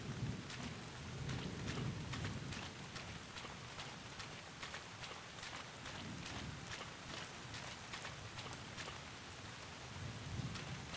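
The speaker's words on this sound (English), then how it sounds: "Just walking around in the rain." In the video game Bottle: Pilgrim Redux, rain falls steadily while low thunder rumbles swell and fade underneath, a continuous hiss with faint drop ticks and no voices.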